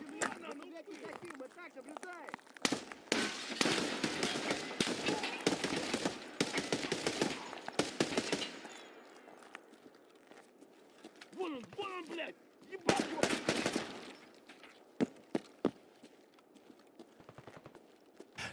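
Rapid bursts of automatic gunfire and sharp pistol shots in Escape from Tarkov, loud and close, with clustered volleys and scattered single shots, and a voice speaking between them.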